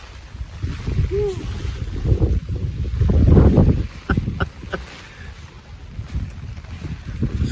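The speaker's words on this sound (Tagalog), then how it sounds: "Kusog king hangin!" Strong wind buffets the microphone on a boat at sea off Malapascua Island, rumbling in gusts that swell and ease, with faint voices and exclamations mixed into the roar.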